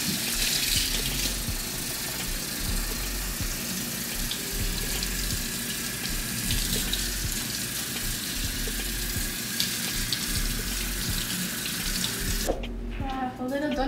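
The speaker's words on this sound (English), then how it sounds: "we're going to rinse out your head, double check the water" Running water from a tap rinses out a man's hair during a 4C wash-and-go routine, a steady close splashing hiss that goes on for about twelve seconds before it stops.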